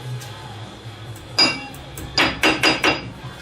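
Four sharp metallic hammer strikes ring out close by on a Ford F-150 lower ball joint, one alone and then three in a quick, uneven run, over a quiet background.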